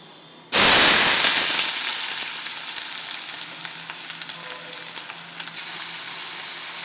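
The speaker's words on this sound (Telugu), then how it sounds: "మునగాకు తాలింపు వేస్తున్నాను." Drumstick-leaf talimpu tempering hits hot oil with a sudden loud sizzle that bursts in, then settles into a steady crackling fry that slowly fades but keeps hissing, with no voices.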